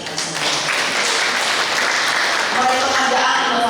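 Sustained loud applause fills a plenary session hall marking the 26th anniversary of Tanggamus, with many hands clapping densely and steadily throughout.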